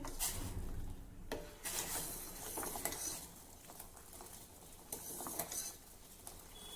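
Jaggery being stirred into a pot of hot water to dissolve, with a spoon scraping and clinking against the metal vessel in irregular bursts, close and moderately quiet, no talking.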